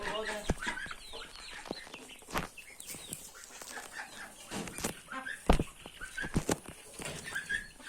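Hens clucking in the evening coop, some sitting on duck eggs, make scattered close calls and sharp bursts across several seconds, with a person talking at times.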